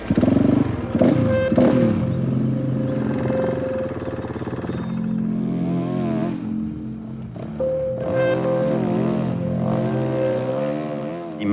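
A dirt bike racing in the Dakar Rally, its engine droning loud and close with rising and falling revs as it shifts through gears, no voices over it.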